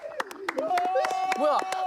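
A group claps in irregular bursts on a Korean TV variety show, mixed with excited voices and cheering exclamations.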